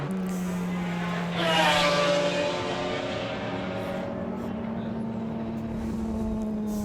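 McLaren F1 GTR race cars circle the Goodwood track, one engine note sweeping past with a rising whine before settling into a steady, distant drone.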